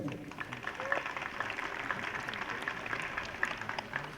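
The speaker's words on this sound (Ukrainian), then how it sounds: "Оплески!" Crowd applause at a local football match between Mayak and Polissia, a steady broadband patter of scattered clapping sustained at moderate level without talk.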